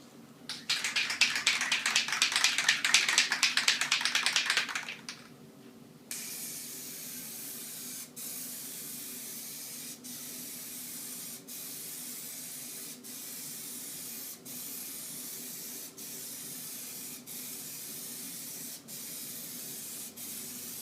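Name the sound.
spraying a coat of Plasti Dip on car stripes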